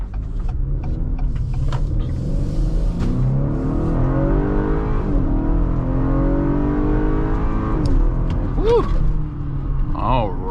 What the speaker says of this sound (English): we're gonna give it a little gas and let you guys see and hear what it feels like